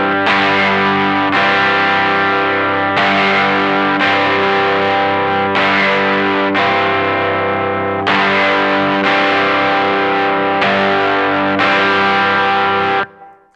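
Distorted electric guitar chugs through a shuffle riff, loud and close, with repeated rhythmic strikes held across several bars before a final cut-off.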